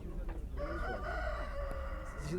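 A rooster crows at a busy poultry market in Isparta: one long, loud, wavering cock-a-doodle-doo close by, over a steady crowd murmur and other fowl in the background.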